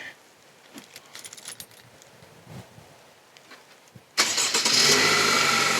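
A Chevy Malibu engine cranks and catches, a sudden loud roar that settles into a steady idle, following a few quiet clicks and key jingles.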